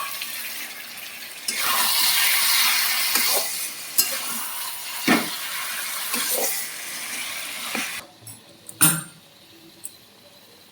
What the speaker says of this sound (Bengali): পরে ইলিশ মাছের মাথাগুলো দিচ্ছি।